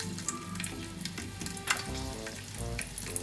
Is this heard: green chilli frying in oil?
yes